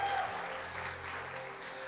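An audience applauds in a hall where a pastor is preaching, a continuous soft wash of clapping at moderate distance, steady and even throughout with a faint background tone.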